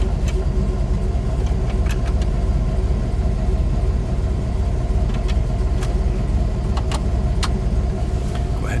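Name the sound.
1970 Dodge Challenger RT engine idling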